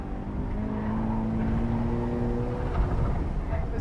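A 2015 Subaru BRZ engine revs steadily and loudly through an autocross run in Solo Spec Coupe trim, a continuous near drone with rising harmonic tones and no talk over it.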